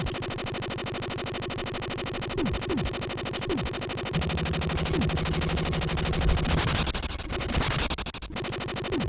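Steady, relentless gunfire on the Commodore 64 port of the arcade shooter Operation Wolf, chiptune bursts of shots looping over a droning synth soundtrack, with occasional louder noisy blasts and no voices.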